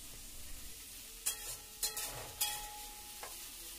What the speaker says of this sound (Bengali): ওর মধ্যে একটু হালকা করে আমি ভেজে নেব।